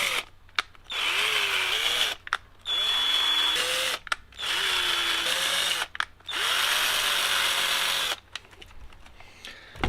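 Power drill enlarging small holes in rubber body-clip pieces on an ARRMA Vorteks 4X4 3S BLX RC car, whirring in several close bursts of a second or two each, separated by short pauses, with pitch shifting as it bites.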